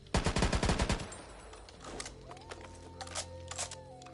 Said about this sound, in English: where's the scar? There it is. Listen to this reload.